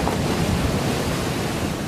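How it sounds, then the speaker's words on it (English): Storm waves and wind at sea, a loud, steady roar of surf and gusting wind buffeting the microphone, with no voices. "This is our 2nd major storm on this trip."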